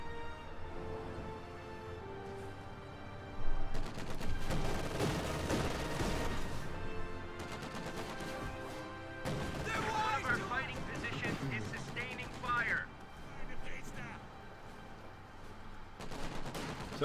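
Gunfire from a machine-gun firing position in the World War II strategy game Company of Heroes 2, with repeated bursts and distant impacts over a busy battle soundscape while a commentator talks throughout.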